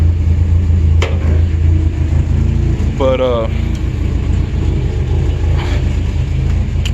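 Pickup truck engine idling nearby, a steady low rumble running throughout beneath a man's brief speech.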